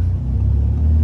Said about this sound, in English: As I put it in dynamic, you'll hear the valves open up.